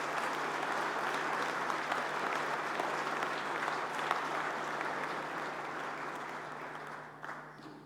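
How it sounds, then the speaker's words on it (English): An audience applauds panel speakers at a space agency heads' dialogue, a steady wash of many hands clapping in a hall that gradually thins and fades out near the end. "you deserve a big round of applause"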